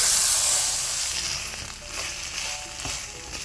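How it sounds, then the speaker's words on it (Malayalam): Ground chili paste sautés in coconut oil for an Andhra fish curry, sizzling loudly at first, then settling into a softer hiss with a few scraping stirs. "അരച്ചെടുത്ത മുളക് ചേർത്തൊന്ന് വഴറ്റിയിട്ടുണ്ട്"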